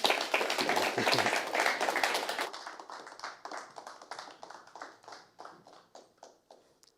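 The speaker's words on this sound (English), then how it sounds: "can we have a massive round of applause for Billy Payne?" Audience applause rounds off an evening event on inclusive musical instruments and hearing, a dense burst of clapping that thins into scattered, separate claps as it fades.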